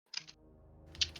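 A few sharp computer keyboard key clicks, two near the start and one loud tap later, over a steady low humming tone.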